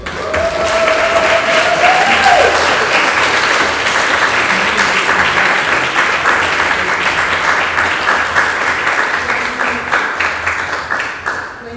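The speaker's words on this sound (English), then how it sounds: "A round of applause for" Audience applause fills an indoor room at a democracy celebration event, steady dense clapping from many hands sustained throughout, loud and close, tapering slightly at the end, with a brief tonal whistle or cheer early on.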